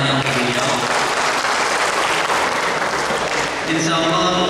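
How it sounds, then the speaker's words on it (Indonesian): An audience at a Red Cross board installation ceremony in Central Lampung claps in loud, continuous applause, with a voice briefly heard near the start and again as the clapping tails off at the end. "Tepuk tangannya untuk beliau."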